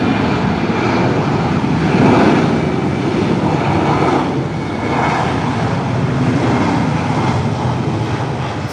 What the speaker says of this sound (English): Nose wheel has touched down.